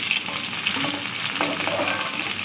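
Small pieces of katla fish fry in hot oil, giving a steady, close crackling sizzle with scattered pops and a couple of light scraping touches in the pan.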